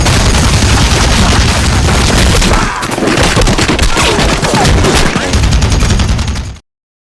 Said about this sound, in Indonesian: Ledakan senapan mesin mengguncang udara.